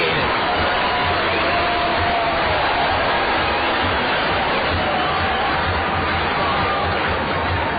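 A capacity baseball stadium crowd cheers after a two-run single in the bottom of the seventh inning of a minor-league game, a dense, sustained roar of voices and whoops heard from a distance.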